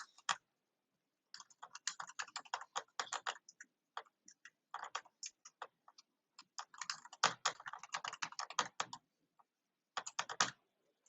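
Computer keyboard typing as an email address is entered, a quiet, close run of quick irregular key clicks in short bursts separated by brief pauses, with no voices.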